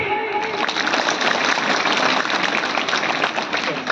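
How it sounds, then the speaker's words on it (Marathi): A large kirtan audience claps together in a dense, sustained burst of applause, loud and steady throughout with no speech over it. "पोटभर आधी टाळ्या वाजवा"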